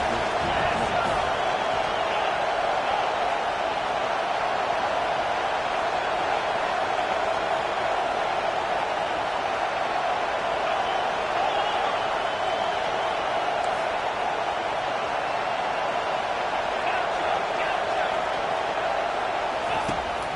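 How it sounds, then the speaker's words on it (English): Football stadium crowd at a college game roars steadily through a third-down defensive stand, a dense continuous wall of cheering with no breaks, under and around the noise. "Decibels rising as the crowd gets behind this defense on third down."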